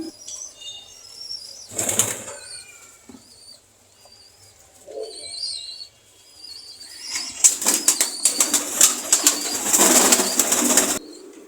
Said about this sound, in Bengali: নিচে কবুতরগুলো এখনও খাবার খাচ্ছে